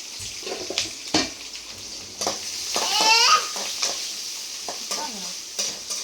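Green chillies, onion and curry leaves frying in a pan, with a bright crackling sizzle under stirring scrapes and a few clatters, close and moderately loud.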